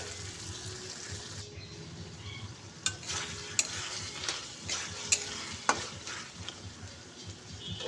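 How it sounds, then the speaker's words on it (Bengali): Fried potatoes are turned through a spice masala in a pan, a quiet sizzle underneath while a spatula scrapes and taps against the pan in irregular strokes, with faint running-water sounds in the background. "এরপর আমি ভেজে রাখা আলুগুলো এর মধ্যে দিয়ে দিলাম। তো মশলার সঙ্গে খুব ভালো করে নেড়ে চেড়ে মিশিয়ে নেব।"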